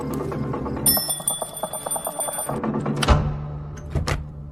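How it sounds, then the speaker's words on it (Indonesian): A perimeter alarm bell set up around a house rings out with a loud, sustained metallic jangle for a few seconds, followed by a couple of heavy knocks. "mendengar lonceng parameter berbunyi"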